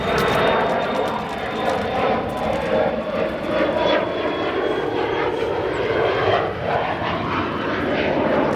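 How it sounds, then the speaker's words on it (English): An Embraer 175 jet departs O'Hare, a loud, steady engine roar with a thin high whine, close and continuous throughout with slight swells in level. "Nice departure for that Embraer 175 headed to Rapid City"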